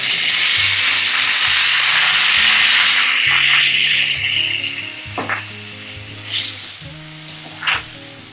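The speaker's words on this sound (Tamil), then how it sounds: "இப்படி வதக்கிட்டு இருக்கும் போதே" Onions and tomatoes sauté in a hot pan for mutton nalli fry, giving a loud, continuous sizzle broken by scraping stirs. The sizzle thins out toward the end as short utensil scrapes stand out.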